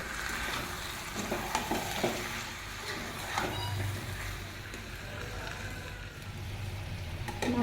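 Marinated goat meat and potatoes frying together in a pan, a close, steady sizzle broken by scraping stirs and occasional clatter from the utensil.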